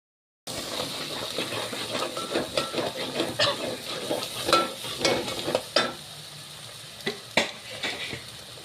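Spice masala fries in oil in a pan for an alu vadi and spinach curry. It sizzles and hisses continuously after a brief silent start, with repeated scraping stirs and occasional clinks of a spoon against the pan.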